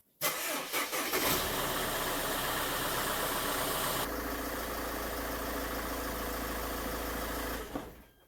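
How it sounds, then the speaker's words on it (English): A Mercedes-Benz van engine cranks briefly, catches and settles into a steady, close idle, running evenly for several seconds before cutting off. "I'm just gonna start the engine first for a few seconds, let it idle"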